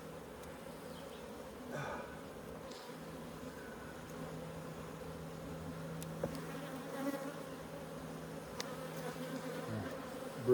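Honey bees buzz steadily around an opened hive during a health check, a dense, continuous insect drone with a few brief louder passes close by.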